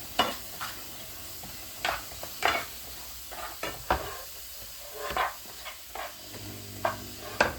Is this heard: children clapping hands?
no